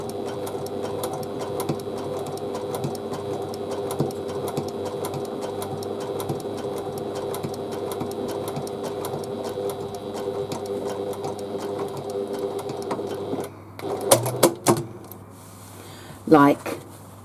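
Sewing machine stitching close along the folded edge of bias binding, a steady continuous mechanical hum with rapid needle ticks running for most of the clip, then stopping, followed by a few brief handling clunks.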